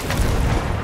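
Ship cannon fire in Sea of Thieves: one deep, heavy boom rolling through the low end, close and loud, with no voices over it.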